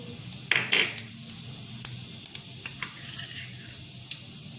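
Cumin seeds tipped into hot oil for Gujarati bhungla bateta give a soft, close sizzle, punctuated by a few sharp metal clinks of a spoon against the pan.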